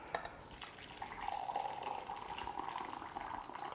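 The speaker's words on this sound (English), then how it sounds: "4 cups of boiling water, which I did on my kettle." A steady stream of boiling water pours from a kettle, running and splashing into a vessel, a continuous close pour with faint clinks at the start.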